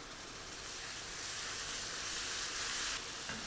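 Tomato puree hitting hot oil with chillies in a pan for a spicy mixed veg cheese curry, a steady loud sizzle that swells and holds, with no voices.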